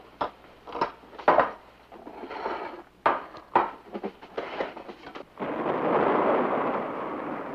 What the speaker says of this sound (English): Did you hear that? It was thunder.